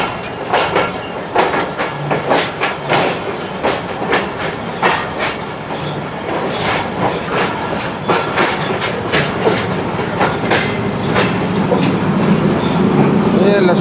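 Karakoram Express and Pak Business Express trains run past in Karachi, a loud, steady roar of rolling cars with repeated clickety-clack wheel beats close by throughout.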